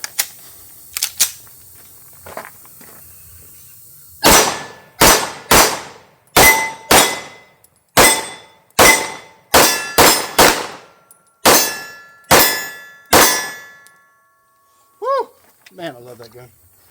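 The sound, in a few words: Sig P211 pistol shooting steel targets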